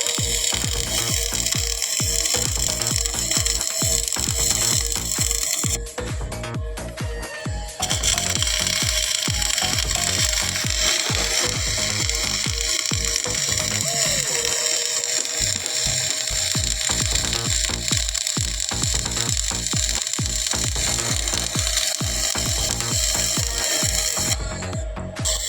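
A MIG welding arc crackles and buzzes in a dense, continuous sizzle, loud and close, with short breaks in the weld around the early middle and again near the end.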